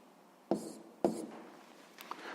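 Chalk or marker strokes on a board while a physics formula for spring stiffness is written, two sharp taps about half a second apart, each trailing into a short scrape, then a fainter squeak, close and alone.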